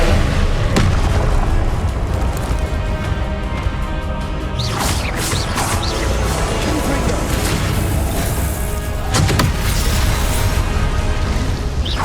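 Spells such as Expelliarmus, Levioso and Confringo are cast over and over in the Hogwarts Legacy video game, giving a dense, loud run of booms, whooshes and crashing impacts over a continuous, busy game soundscape.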